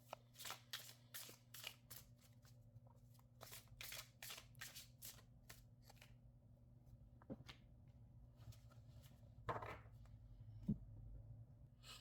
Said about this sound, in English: if it doesn't shuffle like nicely and neatly, because I do shuffle overhand